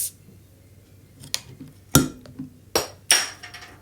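A metal spoon pries at the cap of a glass bottle of coffee-flavoured Coca-Cola, giving a few sharp clinks and scrapes spaced through the clip and ending in a louder metallic pop near the end, close and with no talking.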